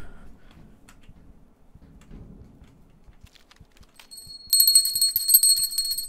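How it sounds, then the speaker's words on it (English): A bell rings loudly and continuously in a police video game set in snow, a rapid, bright jangle that begins suddenly partway through after quieter low thumps and rumbles. "I ring my bell at thee!"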